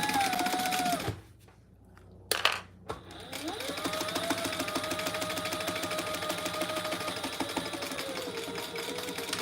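A sewing machine top-stitches a phone pouch along a lining seam, running in a steady close mechanical whir, pausing for a moment with a couple of clicks, then resuming its continuous rapid stitching.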